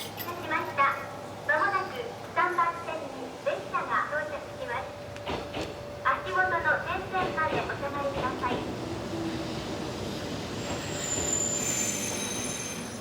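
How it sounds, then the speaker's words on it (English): A train in rural Japan rolls into a platform with a long, high metallic squeal from its wheels, and someone talks over the rumble before it eases to a stop. "a spotless train arrives at a spotless platform, spot on time"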